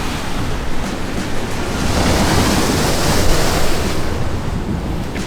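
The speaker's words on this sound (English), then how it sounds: "we saw this massive wave crashing against the side of the road and it would splash all the way above it" Massive ocean waves crash against a roadside sea wall on Madeira, a loud, steady roar of surf and spray that swells slightly midway, mixed with gusty wind buffeting the microphone, with no voices.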